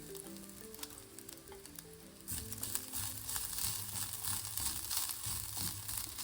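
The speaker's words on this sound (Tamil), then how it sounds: "இந்த தேங்காய் துருவலையும் இதில் சேர்த்து வறுத்துக்கலாம்." Grated coconut and dals roasting together in a pan for cauliflower poriyal give a steady crackling sizzle that grows louder and denser partway through, with faint tonal background music underneath.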